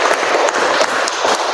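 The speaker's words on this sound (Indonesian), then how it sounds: "tepuk tangan untuk Bapak Tosin ya." An audience at a temple applauds after a talk about cremation relics, giving a short, dense burst of clapping that runs steadily throughout.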